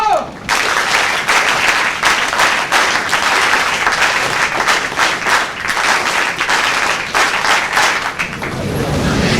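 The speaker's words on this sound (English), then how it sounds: "NSS clap, go!" NSS members in an audience at the National Integration Camp inauguration at NSUT Delhi clap in rhythmic unison, loud and sustained for about eight seconds before fading out.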